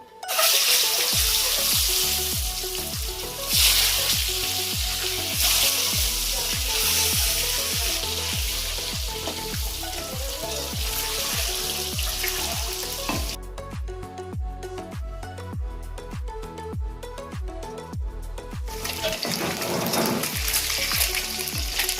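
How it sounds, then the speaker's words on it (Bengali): Eggs hit hot oil in a kadai for a Bengali cauliflower and egg curry, setting off a loud, continuous sizzle with scraping stirs and a brief quieter stretch before the hiss swells again. "তারপর আমি ডিমগুলো কড়ার মধ্যে ছেড়ে দিচ্ছি।"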